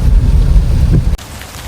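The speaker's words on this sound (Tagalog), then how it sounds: "talagang malakas pa rin po ang ulan" Heavy rain pours down hard during a typhoon with flooding, a loud dense roar that cuts off abruptly near the end, leaving a quieter wash of rainfall.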